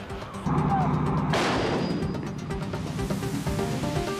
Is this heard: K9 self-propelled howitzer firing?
yes